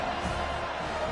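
Football stadium crowd roaring steadily through a brief moment at a Florida State versus Iowa game, a dense wash of distant voices without clear peaks.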